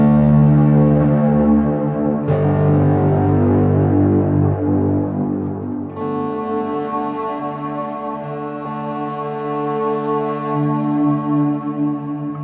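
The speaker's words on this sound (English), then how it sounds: "I want to stick in my black hole reverb, my favorite reverb" Sustained guitar tones wash through a heavy, shimmering black hole reverb at its factory setting, notes blurring into a long ambient tail with bright bell-like overtones, loud and continuous without any voices.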